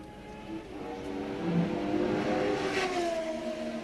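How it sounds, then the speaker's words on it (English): The faint engine of a red Ferrari Formula One race car from the 1981 season whines and climbs in pitch as it accelerates, rising and fading at a distance without talk. "The red Ferrari from Italy, in Formula One since 1950."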